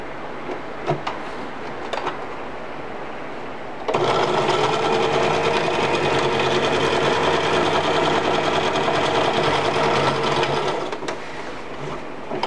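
A sewing machine stitches a child's dress-up apron in one loud, continuous mechanical run of about seven seconds, preceded and followed by quieter handling noises, with no talking.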